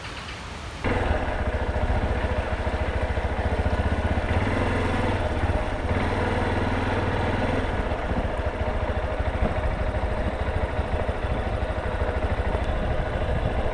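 A motorcycle engine runs steadily and loudly close by, a low rumbling drone with rattling clatter that holds for the whole stretch after a brief quiet start.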